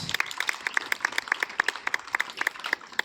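Clapping from a small group at a school ceremony, rhythmic and fairly close, with distinct claps repeating quickly and evenly throughout.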